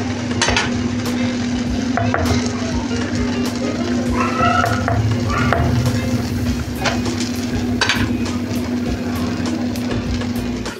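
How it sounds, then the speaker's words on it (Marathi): Thalipith, a mixed-flour flatbread, roasts on a hot tava with a steady soft sizzle and an occasional scrape or clink throughout, a low hum running beneath it. "मेन म्हणजे चांगलं तव्यावर भाजून द्यायचं पहिलं"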